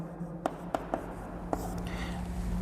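Pen or chalk writing by hand during a Class 12 maths lesson on relations and functions, a few short scratchy strokes in a quiet room over a steady low hum.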